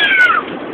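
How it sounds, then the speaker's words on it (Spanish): A single loud, close cat meow with a falling pitch, fading into quiet room background. "sale un gatito por ahí"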